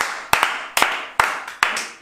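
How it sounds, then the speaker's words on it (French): A few people clap in sharp, evenly spaced double beats, about five distinct claps ringing out close by with no talking. "Un grand bravo à Cyril, j'aimerais qu'on l'applaudisse."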